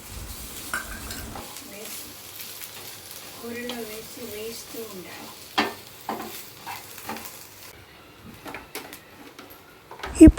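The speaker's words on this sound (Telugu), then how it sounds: "ఇప్పుడు కొద్దిగా ఉడికిన బెండకాయల్లోకి ఆ కొబ్బరి తురుము వేసి కలపాలి." Grated coconut is stirred into partly cooked okra in a pan, giving soft scraping and clinking over a low sizzle, with a brief stretch of voice in the middle and a louder clatter at the end.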